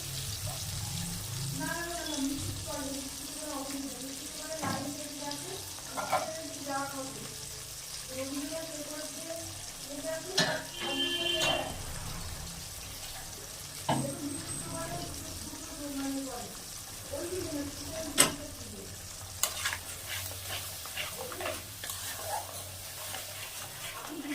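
A spoon scrapes and stirs cauliflower and egg curry in a pan with a low sizzle under it, steady rhythmic strokes close by, while a voice talks over parts of it.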